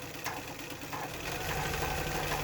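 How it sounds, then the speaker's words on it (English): A sewing machine stitches a back-and-forth satin stitch on an appliqué project, a faint steady mechanical whirring hum with light rapid needle clatter, growing slightly louder toward the end, no voices. "I'm going to put my needle down, and we're going to go back and forth on this satin stitch."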